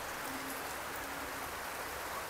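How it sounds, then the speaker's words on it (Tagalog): Steady rain falls in Pampanga, a continuous close hiss of drops pattering on surfaces with no pauses and no voices. "umuulan pala dito sa amin mga kabay, dito sa Pampanga"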